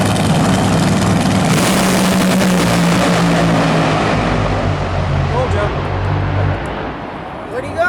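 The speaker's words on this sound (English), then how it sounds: "a couple of funny cars are going to go over 300 miles an hour" Funny cars drag racing past 300 mph at a drag racing world series event, a loud continuous engine roar with a rising then falling pitch sweep as a car passes, dense broadband noise throughout and fading slightly near the end.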